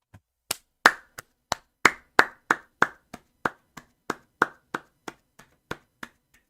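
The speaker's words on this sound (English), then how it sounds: "Clap." Slow, evenly spaced claps ring out one at a time, around seventeen sharp, close hand claps with no talk, at a watch party for the PRX versus RRQ VCT Pacific esports grand final.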